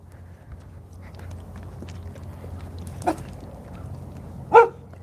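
A big dog barks on a city street while someone walks by, one faint distant bark and then a single louder, closer bark over steady traffic-like background noise.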